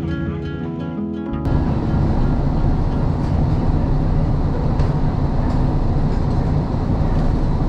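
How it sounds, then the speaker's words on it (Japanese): A train departing a station in eastern Hokkaido, Japan rumbles loudly and steadily after a brief quieter moment, with rolling wheel noise and faint rattles throughout. "さあ列車は真州駅を出発すると"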